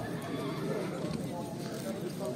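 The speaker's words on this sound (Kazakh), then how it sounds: "Ат көрімге кете тұрған жылқылар." Horses neighing and whinnying at a busy horse market in Sokuluk, with hooves clip-clopping and people talking throughout the steady crowd noise.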